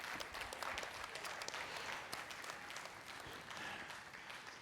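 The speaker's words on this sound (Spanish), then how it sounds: "Dale un aplauso al Señor en esta mañana." A church congregation applauds together during a morning service, a dense, steady wash of clapping that holds at an even level from start to finish.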